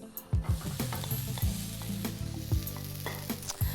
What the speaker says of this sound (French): j'ai déjà mis de l'huile au feu. Je vais y ajouter le riz,